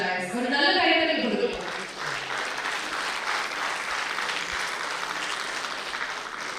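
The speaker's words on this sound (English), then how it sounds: "With a round of applause" At a medical conference award ceremony, a short musical flourish gives way to sustained audience applause, a steady moderate wash of clapping that continues to the end.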